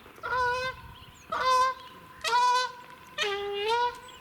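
Duck honking nearby, four loud nasal honks about one second apart, each a short drawn-out call, with no other sound.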